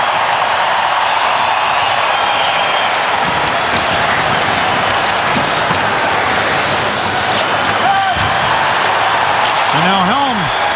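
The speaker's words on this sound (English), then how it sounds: "Crowd appreciates his effort." A hockey arena crowd at a New Jersey Devils vs. Detroit Red Wings game applauds in a broad, sustained wash of clapping and roar. The sound stays loud and continuous for the whole stretch, and a few brief tonal sounds rise near the end.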